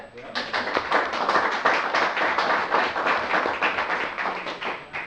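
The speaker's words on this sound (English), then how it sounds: "Give them all one big round of applause." A small group at a board meeting claps in a dense, lively burst of applause that runs the whole length, with sharp individual claps standing out close by.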